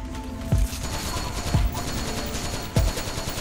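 Automatic gunfire in a video game comes as three short, separated bursts with sharp low thumps, set against a steady mechanical background hum and no talking.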